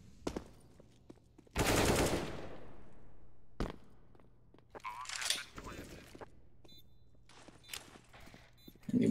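Gunfire in the video game Counter-Strike: Global Offensive, heard during a competitive match: a loud sustained burst followed by scattered sharper shots and clattering, with a caster talking over it.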